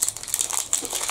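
A Scottish sweet bar wrapper crinkles and rustles close up in a quick burst of crisp plastic handling that lasts about a second.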